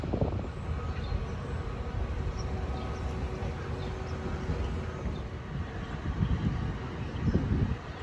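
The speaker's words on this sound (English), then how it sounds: "That eastbound diesel train, I think, is an equipment move." An eastbound diesel train on an equipment move passes New Hyde Park station on a Long Island rail line, a steady low rumble of engine and wheels with wind buffeting the microphone, swelling a little near the end.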